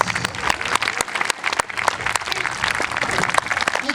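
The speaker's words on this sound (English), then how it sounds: "Good round of applause, please, for Richard Curtis and their Canine friends" Audience applause following a K9 freestyle dancing display by performing dogs: dense, steady clapping from a crowd that continues strongly for the whole stretch, with a few sharper individual claps standing out.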